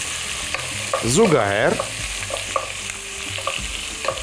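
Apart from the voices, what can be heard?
stirring bigos frying in a pan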